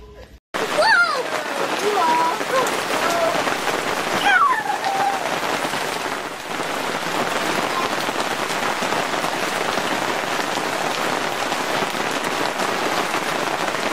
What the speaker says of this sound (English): I think the rain just murdered our fire